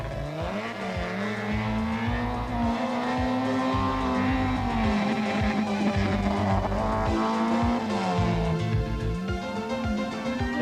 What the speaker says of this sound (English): It's a fine effort in a 1600cc two-wheel drive car with less than 200 horsepower, but as Meekings crosses the line